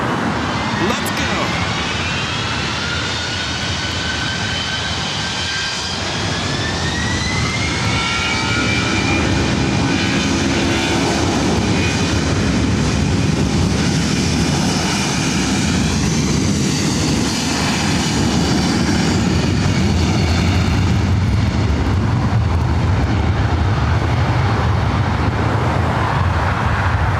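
An airliner takes off from runway 24 right at LAX, its engines building into a loud, sustained roar that swells and holds over the whole stretch, with faint traffic noise underneath.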